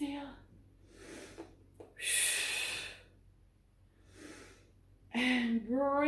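Forceful exhaled breaths from a person doing a standing warm-up, several separate breathy bursts spaced a second or two apart, close and fairly loud, with a brief voiced sound near the end.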